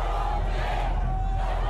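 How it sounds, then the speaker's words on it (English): Crowd of voices chanting in the Modern Warfare video game, a dense, steady roar of many people that fills the whole moment without clear breaks. "crowd chanting."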